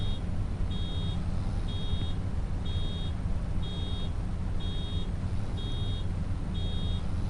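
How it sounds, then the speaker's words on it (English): Regular electronic warning beeps from a machine in Farming Simulator 25 during forestry work, about eight evenly spaced tones sounding steadily over a loud, continuous engine rumble. "if we keep going forwards, starts to beep at me"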